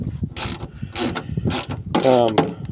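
A 12mm ratchet spanner clicks in short, evenly spaced bursts of rapid metallic ticks during repair work on a green limousine, close and fairly loud with no talk.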